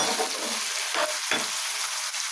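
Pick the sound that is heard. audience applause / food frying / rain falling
food frying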